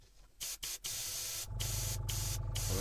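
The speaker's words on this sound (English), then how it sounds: "So I take my airbrush, wind that right in and give it a go" An airbrush sprays leftover cleaning fluid in a steady close hiss; a few short bursts cut in and out first, then the flow holds continuous and loud to the end.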